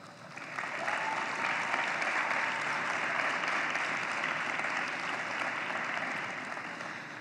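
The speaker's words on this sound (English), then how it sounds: "I invite you to recognize and applaud your supporters." Graduates and guests at a spring commencement ceremony applaud their supporters: a broad, even wash of clapping that swells in over the first second, holds steady, then eases slightly toward the end, heard from a distance in a large hall.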